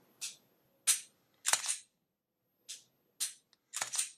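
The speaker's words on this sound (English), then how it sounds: "Hold the trigger all the way back to the rear like I'm practicing trigger reset." A Glock pistol's trigger gives six or seven crisp, sharp clicks at uneven intervals during trigger-reset practice, each one close and isolated against near silence.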